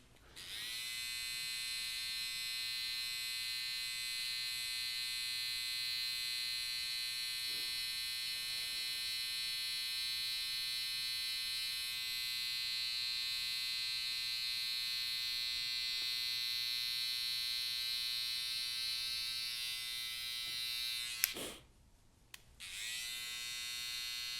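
Electric hair trimmer working stubble during a haircut, a steady close high-pitched buzz running continuously, briefly interrupted near the end by handling knocks before resuming.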